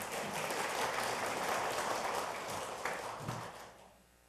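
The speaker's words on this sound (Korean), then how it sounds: "박수 좀 부탁드리겠습니다" Applause from the audience at a National Assembly policy forum greeting a People Power Party lawmaker, a dense, even wash of clapping that holds steady and then fades out at the end.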